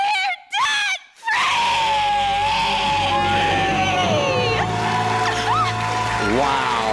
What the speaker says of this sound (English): Let's hear a great debt-free scream.